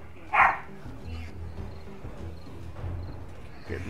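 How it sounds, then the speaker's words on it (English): A dog barks once, sharp and fairly close, in a rainy video game horde mode with razor wire, then low ambient game rumble and rain fill the rest. "Oh, a dog."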